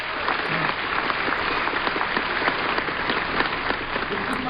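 Audience applause at Apple's WWDC 2012 keynote, a steady wash of clapping from a large crowd that holds even for several seconds.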